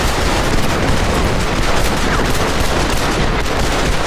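Dense gunfire in the Red Dead Redemption multiplayer showdown, a loud, continuous barrage of overlapping shots and cracks with no pause, no voices over it.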